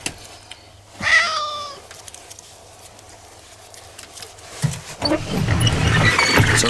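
A single cat meow rings out near the start, followed by quiet rustling and then louder, muffled handling noise toward the end.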